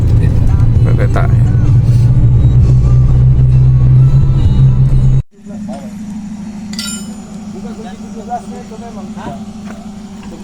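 A car drives at night through forest in Kalimantan between Bontang and Letta, a steady low engine drone with rattles and clinks that cuts off abruptly midway, then quieter cabin noise as a voice talks.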